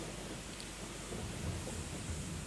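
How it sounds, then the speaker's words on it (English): Rumbling thunder in a West Somerset Railway train simulator game rolls on steadily, low and broad, swelling slightly midway under a constant hiss of rain-like noise, with no talk. "Oh, nice thunderclap."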